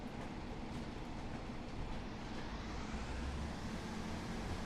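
A Class 142 Pacer train, a bogie-less railbus with axles bolted straight to its chassis, running in Train Sim World 4: a constant loud rumbling roll with a deep low-end drone and faint rhythmic clatter, no talking.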